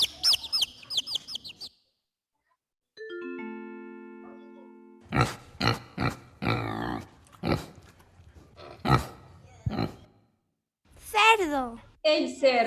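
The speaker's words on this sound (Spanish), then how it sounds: "Cerdo. El cerdito. ¿Cómo hace el cerdito?" A pig gives a series of rough, close grunts in uneven bursts after a rising chime, with other high squeaky calls at the start and end.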